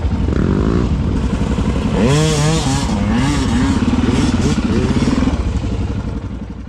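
A motorcycle rides timed laps around barrels at the Open Roads Rally in Myrtleford, its engine loud and close, revving up and down in rising and falling sweeps with some clatter before it fades slightly at the end.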